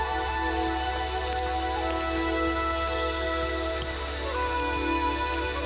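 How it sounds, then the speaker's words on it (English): Steady rain falls through a spruce forest on the Copper River Delta, a dense even patter of drops on foliage that holds constant throughout with no voices. "Rain weeps down from cloud and spruce."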